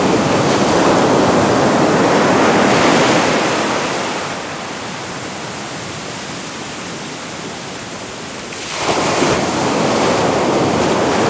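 Ocean surf breaking along a calm, windless sunrise coastline: a steady, loud wash of foam and rolling water that eases for a few seconds mid-clip, then surges back in strongly with a fresh wave.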